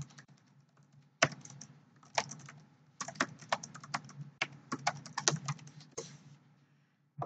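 Typing on a computer keyboard, a run of close, crisp key clicks in irregular bursts with brief pauses, fairly quiet against a low background hum.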